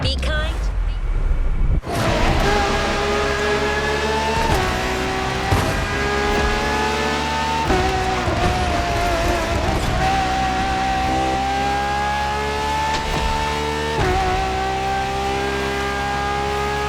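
A Ferrari V12 hybrid supercar in The Crew Motorfest revs hard through rising gear pulls, a loud harmonic scream climbing and dropping with each shift, with a narrator talking over it.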